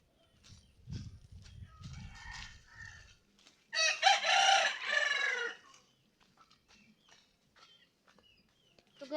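Gamecock roosters close by give low clucks, then one crows loudly in a single drawn-out call, followed by quieter scattered sounds.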